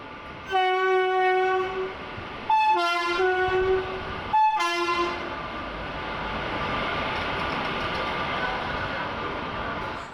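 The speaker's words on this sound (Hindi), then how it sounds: "देखते देखते हमारी ट्रेन आ गई।" A train pulling into a railway platform on a monsoon trip from Pune to Matheran sounds three loud horn blasts, then gives way to a steady rumbling roar of the approaching cars.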